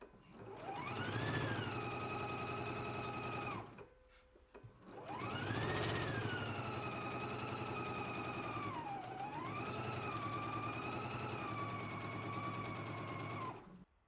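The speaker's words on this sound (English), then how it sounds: "let's stitch our side seams using the 5/8 of inch seam allowance and finish off with your serger" Serger sewing machine finishing the side seams of a top, running in two long continuous bursts with a brief pause between, its motor whirring steadily with slight pitch changes as speed varies.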